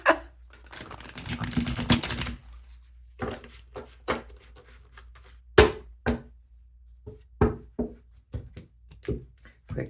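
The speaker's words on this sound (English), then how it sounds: "Quick shuffle." Tarot cards are shuffled by hand, a burst of fluttering riffle followed by a string of separate soft taps and slaps as cards are tapped and set down, close and sharp, with no talk.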